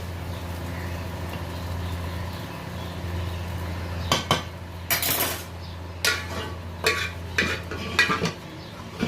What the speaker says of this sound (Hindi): फिर डालेंगे हम इसके ऊपर चावल।